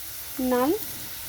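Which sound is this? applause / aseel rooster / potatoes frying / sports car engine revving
potatoes frying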